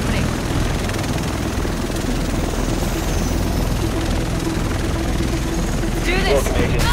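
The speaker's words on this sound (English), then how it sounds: "The rest of us should be in this chopper." Helicopter in the video game The Division, a steady rotor and engine drone running loud and continuous throughout, with voices talking over it.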